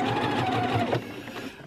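A sewing machine sews a quick back stitch, its motor buzzing loudly and close for about a second before easing off into a quieter whir.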